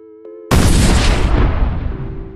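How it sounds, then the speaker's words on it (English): A septic tank explodes in a sudden loud, bomb-like blast that cuts off a low hum, then gives way to a long, rumbling, slowly fading roar. "The septic tank explodes like a bomb."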